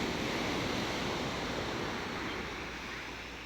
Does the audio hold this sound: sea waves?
yes